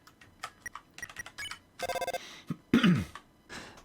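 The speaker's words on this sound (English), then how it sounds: "The phone is ringing, but you can't get it." A telephone rings in the video game Deltarune, a quick burst of bright electronic trills between chirpy blips of game text sounds, clear and close with no talking.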